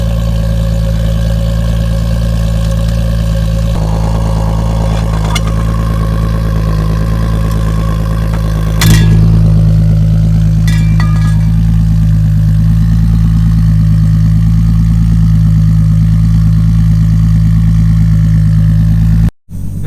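A built 700 bhp R33 Nissan Skyline GTS-T idles loudly with a deep, droning exhaust burble that stays steady and close throughout, rising slightly in intensity partway through.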